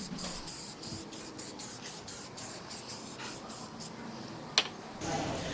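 Spray paint hissing onto custom parts for a full-size arcade cabinet, a faint, steady spray in short bursts with one sharp click near the end.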